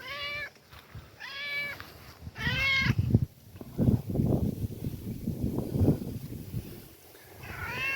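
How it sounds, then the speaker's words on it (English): A pet cat meows for attention outdoors near woods, with several clear rising meows repeated at intervals, followed by a stretch of soft rustling and nearby movement before one more meow. "That is my cat, though."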